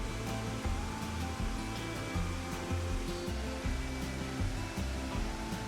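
Burney Falls in California roars as a continuous broadband rush of falling water, loud and steady, with irregular low thumps breaking through it.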